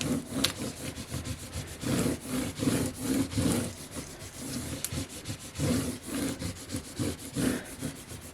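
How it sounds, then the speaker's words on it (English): A small squeegee tool rubs back and forth across a surface in repeated scraping strokes, quiet and close, with a rough rasping texture and no voices. "I've got this little squeegee tool I'm going to use to just"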